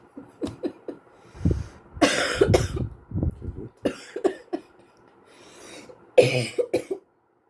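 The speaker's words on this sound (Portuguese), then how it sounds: "Eu quero tossir" A woman coughs repeatedly at close range during a live Christian devotional broadcast, bursts of harsh coughing and throat clearing separated by short breathy pauses.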